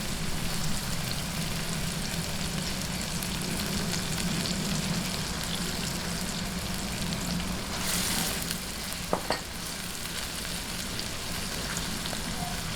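Chicken pasta sauce sautéing in a pan with soy sauce and oyster sauce added, a steady, dense sizzle running throughout, with a brief clatter of stirring near the end.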